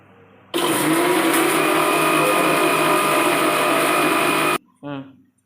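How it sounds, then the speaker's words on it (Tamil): A kitchen mixer grinder whirs loudly as it grinds flattened rice (aval) with cardamom, a steady four-second roar that starts and stops abruptly, with a brief voice after it. "இது அவலில் ஏலக்காயும் போட்டு அரைச்சிக்கணும்."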